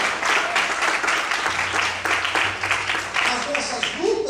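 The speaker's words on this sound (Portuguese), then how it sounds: "Vamos todos aplaudir o Senhor." A church congregation claps together in sustained applause during a worship service, a dense, steady patter of many hands that carries on without a break.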